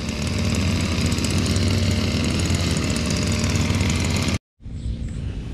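A grass cutter engine runs steadily on a farm, a loud continuous buzzing drone that cuts off abruptly near the end, then resumes after a brief silence.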